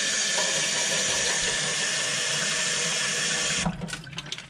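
Tap water runs steadily into a sink, a loud continuous broadband rush close by, breaking into splashier, uneven spatter near the end as something is rinsed under the stream.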